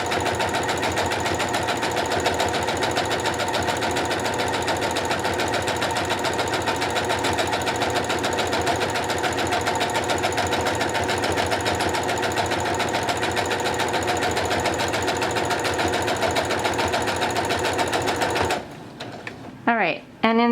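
A sewing machine stitches fabric napkins in a loud, rapid, steady whir that runs continuously for about eighteen seconds before stopping, and the machine is heard alone with no talking.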